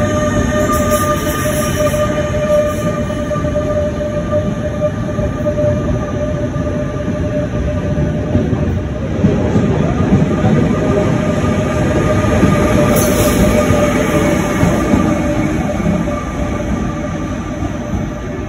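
Steady loud rumble and clatter from inside a moving Dutch intercity train toward Rotterdam, with a constant electrical whine and occasional faint squeals over the rolling wheels.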